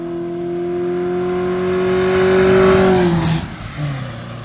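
Honda Accord with an F22 engine and aftermarket intake revving hard, a steady rising drone that peaks loud and close, then drops off sharply as the throttle closes.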